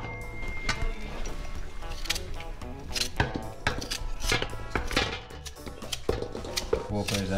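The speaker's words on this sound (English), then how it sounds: "Cut up some coconut, we are going to the stew." Knife chopping coconut on a board for an Ital vegan stew in the Blue Mountains, a quick steady run of sharp close chops with voices talking over it.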